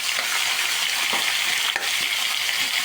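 Chicken gizzards sauté in hot oil with a loud, continuous sizzle, and a few stirring scrapes cut through it. No one speaks.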